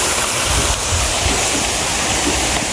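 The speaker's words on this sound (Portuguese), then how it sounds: "Nossa, tá chovendo." Steady, dense rushing of rain at an outdoor park, loud and continuous like heavy rainfall, with no voices.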